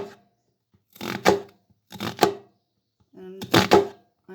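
A knife chops through vegetables on a board in three short bursts of quick cuts, close and fairly quiet, with pauses between them.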